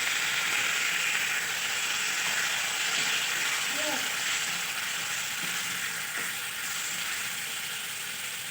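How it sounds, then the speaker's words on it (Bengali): Water poured into a pan of frying rui fish curry with potato, cauliflower and tomato, giving a steady hissing sizzle with faint clinks, continuous and close throughout. "আমি জল দিয়ে দিচ্ছি।"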